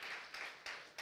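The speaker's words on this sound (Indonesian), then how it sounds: "Tepuk tangan buat Tuhan Yesus dulu" A congregation at an Indonesian church service claps in short bursts, three or four quick rounds of hand clapping, fairly close and moderately loud, with no voices heard.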